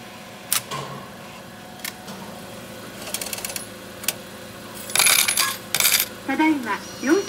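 Coins clink and drop into a parking lot payment machine at a cash-operated car park, with several separate metallic drops and a busier cluster of rattling clinks near the end, close and fairly loud.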